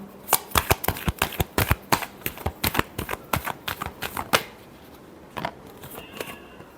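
Tarot cards are shuffled by hand in a quick run of crisp, rapid flicking clicks that stops after about four seconds, followed by a couple of softer card sounds.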